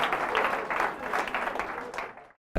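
A stand-up comedy audience applauds loudly and steadily for about two seconds with a few cheers mixed in, then the sound cuts off abruptly.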